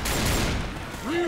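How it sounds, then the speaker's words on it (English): A pipe bomb explodes in the Left 4 Dead 2 zombie game: a dense burst of rapid blasts and crackle, loud and close, ending in a rising tonal whine, with voices faintly underneath. "Is that pipe bomb I hear?"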